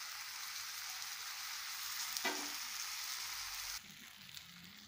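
Spices sizzle steadily in hot oil in a pan, with a brief stir scraping near the middle and the sizzle dropping quieter toward the end; no talking.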